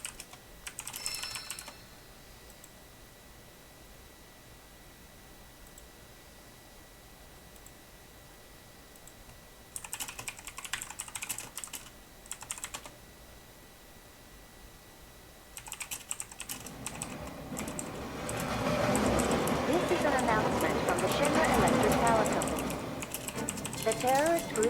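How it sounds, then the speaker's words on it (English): Loud computer keyboard typing comes in bursts of rapid clicking, sparse early and then denser, with a louder stretch of continuous game or background sound near the end. "My keyboard's rather loud."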